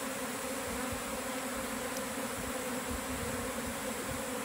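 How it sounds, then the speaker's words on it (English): A honey bee swarm marching into a box gives off a dense, steady buzzing hum, loud and close, unbroken for the whole stretch with no voices. "You can hear that it's not quite as loud as it was when the bees first hit."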